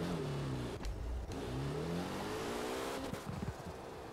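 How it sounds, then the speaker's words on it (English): A Porsche 718 Cayman in Forza Horizon 4 revs and accelerates, its engine note rising and falling, with a few sharp crackling pops from the exhaust cutting through, close and loud throughout. "Oh, I love that backfire. Just listen."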